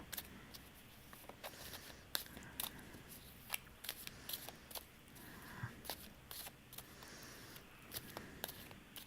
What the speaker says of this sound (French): Je rebrasse les cartes